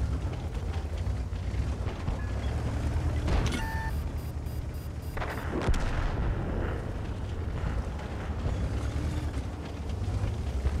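A KV-2 tank's heavy cannon fires in World of Tanks, aimed at a T-150: two sharp, booming blasts a couple of seconds apart over a constant low battle rumble.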